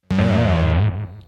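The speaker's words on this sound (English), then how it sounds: "I want my voice to be made angry through the plasma pedal high voltage distortion unit" A voice passes through a plasma high-voltage distortion pedal, giving a brief, harsh, buzzing growl with thick, gritty overtones that cuts off after about a second.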